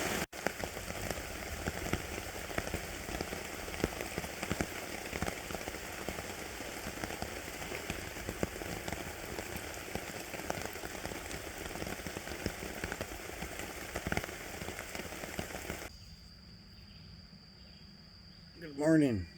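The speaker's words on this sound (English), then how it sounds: "Yo, it is pouring out." Heavy rain pours steadily at night over a solo forest camp, a dense, close hiss on the tent or tarp that stops abruptly near the end, leaving quiet with crickets and a brief rustle.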